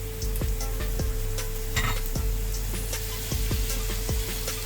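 Chili and tomato fry in a pan for fava bean foul moudammas, with a steady close sizzle and regular scraping taps of a utensil stirring the pan.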